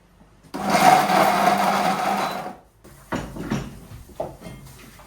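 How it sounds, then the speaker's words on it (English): Blender grinding crayfish with a little water, a loud steady whirring burst for about two seconds that stops abruptly, followed by quieter clattering and knocks. "a little bit of water, just so the blender will move"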